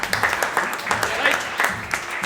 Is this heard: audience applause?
yes